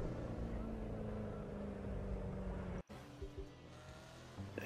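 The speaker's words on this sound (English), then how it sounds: "The engine sounds amazing." A Bugatti Chiron engine in The Crew 2 racing game holds a loud, steady roar with a strong low hum, cuts out abruptly for a split second, then resumes slightly lower with small revving swells.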